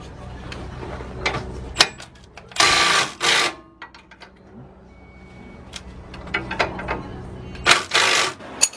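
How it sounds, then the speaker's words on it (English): An 18mm socket and wrench loosen shock bolts, giving a few loud, sharp ratcheting bursts close by, with scattered clicks and quiet handling noise between them. "that one's held in by 18mm bolts. So use an 18mm socket and wrench."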